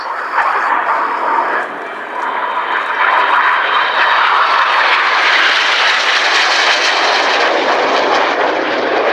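A jet fighter pulls a tight 360-degree turn at full power at the RAF Cosford Airshow, its engine a loud continuous roar that swells and holds steady throughout.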